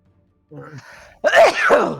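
A player at a tabletop role-playing game session sneezes close to the microphone: a voiced, drawn-in lead-up followed by a louder, noisy burst.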